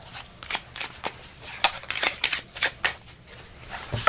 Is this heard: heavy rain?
no